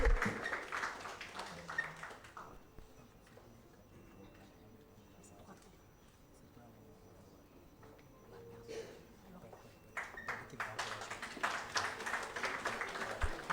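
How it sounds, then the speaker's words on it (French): An audience applauds at the Gov'athon 2025 prize-giving ceremony, with a burst of clapping at the start. A quieter stretch follows, then louder, sustained applause rises again near the end. "Sous vos applaudissements, s'il vous plaît."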